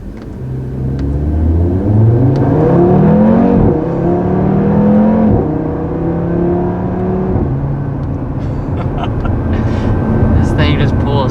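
A 2020 Audi TT RS with quattro all-wheel drive, its five-cylinder engine revving hard under acceleration through several rising gear pulls with shifts between them, loud and close from inside the cabin.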